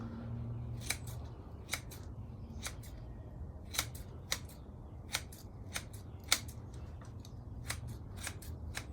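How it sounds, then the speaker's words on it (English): Scissors trim a burning bush plant from nursery stock during repotting, a series of crisp, close snips spaced irregularly about a second apart against a quiet background. "I do want to give it a little bit more of a trim around."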